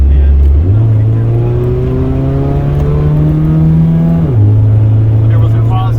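The engine of a 1984 Plymouth Reliant wagon, revived after 22 years off the road, revs up under acceleration, its pitch climbing steadily before dropping abruptly at the shift and settling, loud and close, with voices inside the car.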